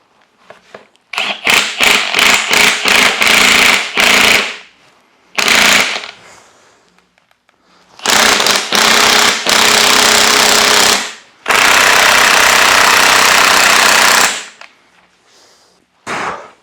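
A heavy-duty BeadBuster XB 550 tool breaks a tire bead from its rim in loud, close bursts of rapid mechanical hammering and grinding, with several short pulses early on, then two long sustained runs separated by brief silences.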